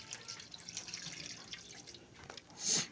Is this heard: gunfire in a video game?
no